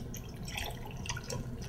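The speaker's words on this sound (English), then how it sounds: "And we're ready to bring over our fresh boiling water." Fresh boiling water poured for a cup of tea, a continuous close splashing trickle with fine bubbly droplet detail, steady throughout and with no talking.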